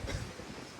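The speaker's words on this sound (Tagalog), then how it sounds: "sobrang lakas ng hangin," Strong wind with heavy rain buffeting the microphone, a low rumbling roar with gusty bursts, no voices.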